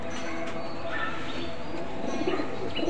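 Baby pigeons, golden teddy birds among them, coo and chirp softly within a busy, noisy loft, their calls faint and scattered over steady background rumble.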